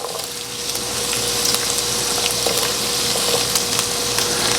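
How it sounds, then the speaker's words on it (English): Celery, onion and garlic sauté lightly in a skillet, a steady moderate sizzle with faint crackling and a low background hum, close by, with no voices. "I'm just going to saute that up real lightly."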